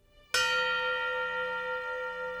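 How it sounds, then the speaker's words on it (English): A fire station bell rings the last alarm during a firefighter's funeral procession, one sharp metallic strike that then hangs in a long, bright, slowly fading ring with no voices. "The bells of the last alarm ring out as the procession passes the station."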